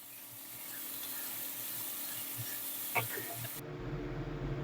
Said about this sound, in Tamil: ஆனியன் போட்டு நல்லா வதங்கட்டும்.